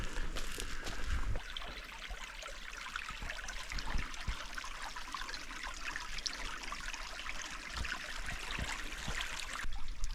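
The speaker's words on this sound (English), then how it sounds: "Here's my creek, guys. I could hear the water running" A small creek runs during a spring campout in the woods, a steady, fairly faint trickle and babble with no voices.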